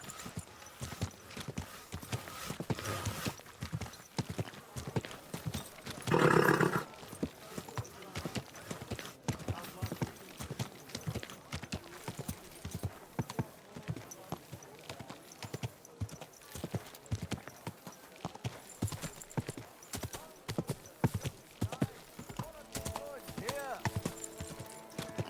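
Hooves clip-clop in a steady walking rhythm in Kingdom Come: Deliverance II, close and fairly quiet, with a short whinny partway through and occasional voices in the background.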